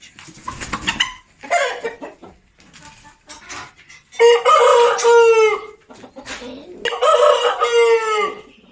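A Shamo or Aseel breed rooster crows loudly twice in long, strained calls, with hens clucking and squawking in short bursts before and between.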